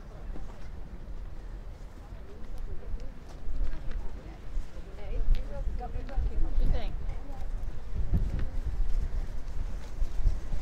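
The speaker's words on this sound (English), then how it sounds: "It's so windy." Gusty wind buffeting the microphone in low rumbling bursts, with faint background sounds beneath, at Liverpool's Royal Albert Dock and Pier Head.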